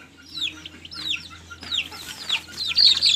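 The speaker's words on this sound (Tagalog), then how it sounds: "Ito yung mga sisiw natin. Ito na natin ilagay mga sisiw." Chicks chirp on a small farm as they are moved into a new enclosure, with a steady stream of close, high, overlapping peeps repeating in quick bursts and growing busier toward the end.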